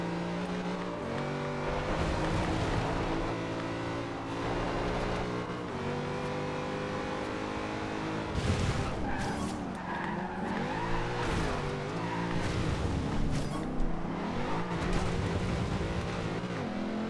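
A Nissan GT-R Skyline in the racing game Forza Horizon 2 roars and revs continuously, with tire squeal and skidding as it slides through turns; loud, steady engine drone with shifting pitch throughout.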